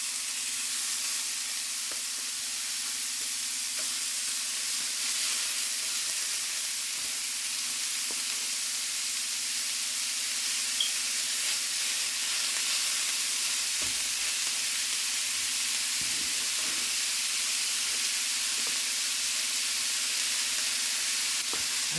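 Ground meat and sausage sizzle in a skillet with a steady, close hiss and faint crackle that runs unbroken throughout, with no talking.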